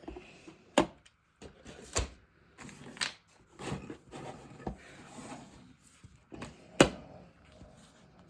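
Scissors cut paper for a collage in a quiet room, with short irregular snips and rustling paper handling spaced across the clip, soft and close.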